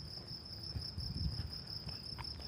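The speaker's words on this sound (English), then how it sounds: "The sounds of crickets." Crickets chirp steadily outdoors near a trail in San Diego, a thin continuous high trill running through the whole stretch over a soft low background rumble, fairly quiet and with no one talking.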